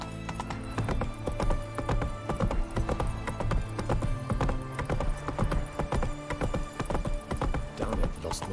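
The horse Roach gallops in The Witcher 3, hooves clip-clopping in a fast steady rhythm close by, with layered game ambience and music underneath.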